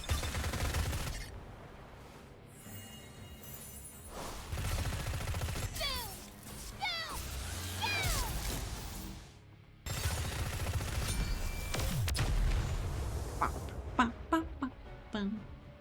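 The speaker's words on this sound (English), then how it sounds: "She does have a machine gun for this one." Machine gun fire in the video game Nikke, bursts of shooting under voiced game dialogue and effects, with a louder stretch of rapid shots near the end.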